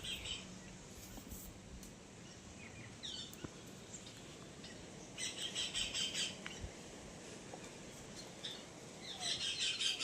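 Faint, high squawking parrot calls from a banyan tree come in short bursts over a soft outdoor hiss.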